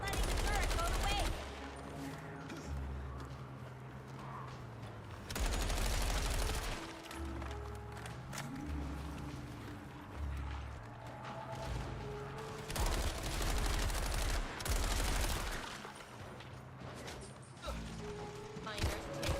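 A mounted turret fires in the zombie co-op game John Carpenter's Toxic Commando, loud recurring bursts of heavy automatic fire breaking in every few seconds over mechanical clanks and a low rumbling background, with occasional talk.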